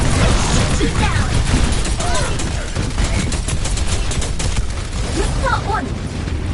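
Dense rapid gunfire from a PS5 shooter game rattles continuously throughout, loud and close, layered with clattering mechanical noises and whistling effects, while a voice talks over the shooting.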